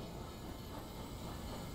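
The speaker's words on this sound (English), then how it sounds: "Oh, it looks like the train is in time." In Team Fortress 2, a passing train gives a continuous heavy rumble and hiss, close and loud, holding an even level from start to finish with no talking.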